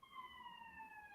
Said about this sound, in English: Oh, we got more sirens, I think.